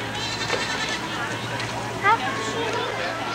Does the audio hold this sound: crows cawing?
no